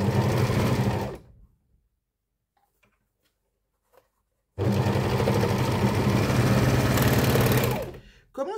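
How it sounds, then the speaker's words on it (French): An overlocker serger whirs steadily as it stitches fabric, running in two sustained bursts separated by a few seconds of near silence, loud and close. "Je vous évite pas le bruit de la surjeteuse ce coup-ci."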